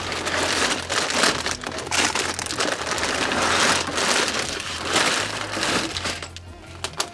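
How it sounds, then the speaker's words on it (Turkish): A LEGO Creator Expert 10256 Taj Mahal box is opened and white inner boxes and plastic bags are pulled out, giving steady close crinkling, rustling and crackling with sharp snaps throughout. "Kutuyu açıyoruz. Bu sefer içerisinden iki beyaz kutu ve poşetler çıkıyor."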